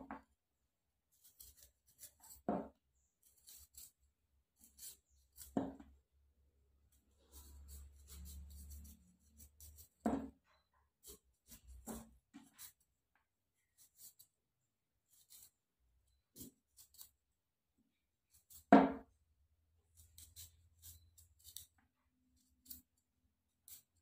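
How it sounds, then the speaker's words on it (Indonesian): Skin is peeled off a piece of ginger root, giving soft, close scraping strokes that come in short isolated bursts separated by stretches of near silence. "Kita kupas kulitnya."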